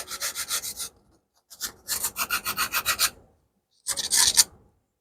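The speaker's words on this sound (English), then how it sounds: "Take off your clamps. Lightly sand." Wood sanded lightly by hand after the clamps come off, giving a rhythmic back-and-forth rasp in three bursts of quick, close strokes with short pauses between, no talking.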